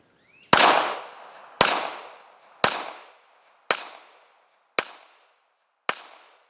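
Ruger LCP pistol firing six sharp, loud shots at roughly one-second intervals, each crack followed by a brief ringing echo that fades, close and with no voices.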